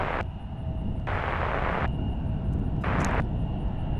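An Embraer E-175 regional jet departing on runway 36 at Cincinnati's CVG airport, a loud continuous engine roar held steady throughout, heard from nearby.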